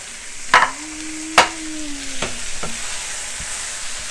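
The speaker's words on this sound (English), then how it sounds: "meat starting to get some sear on it" Meat searing in a frying pan with gravy, a steady hiss of sizzling broken by a few sharp clanks and scrapes of a utensil stirring against the pan, close and alone without talk.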